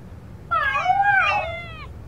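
A cat meows in the indie horror video game Interfectorem, one drawn-out, wavering meow standing alone over a low background hum.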